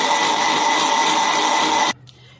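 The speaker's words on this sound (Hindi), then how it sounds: "अब इसको ग्राइंड कर लेते हैं" A kitchen grinder whirs loudly and steadily as it blends pomegranate seeds with water, sugar and salt, then cuts off abruptly near the end, leaving a faint clatter.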